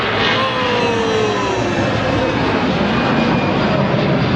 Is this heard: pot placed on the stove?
no